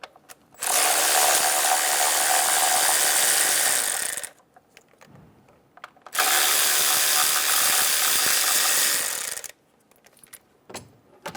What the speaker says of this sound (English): Remove the 2 10mm bolts.